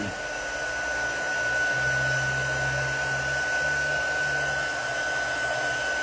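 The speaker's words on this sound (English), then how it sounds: "I am going to heat set this a little bit, just so if I touch it, it won't smear" A heat tool blows steadily while heat-setting ink on a craft project, a close, loud, even whir and rushing air with a faint high whine, running unbroken throughout.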